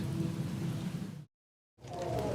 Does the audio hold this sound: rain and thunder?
yes